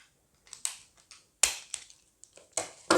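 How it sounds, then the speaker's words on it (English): Scissors snip through plastic cable ties holding a brass-cased watch to a display stand, producing a series of sharp, close clicks and crunches at irregular intervals with quiet gaps between cuts. "We got more cable ties. So use my trusted scissors."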